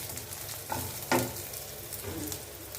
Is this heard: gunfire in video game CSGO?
no